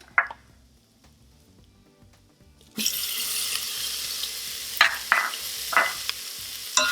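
Turmeric, chili powder and onions are stirred in an Instant Pot for a Gujarati mung bean curry, a quiet start with a low hum, then a steady close sizzle with repeated scraping stirs.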